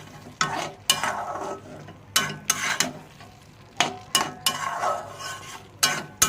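Beaten eggs are stirred into a lentil (masoor dal) curry in a pan: a spoon scrapes and clinks against the metal in irregular strokes over a faint sizzle, close up and without speech.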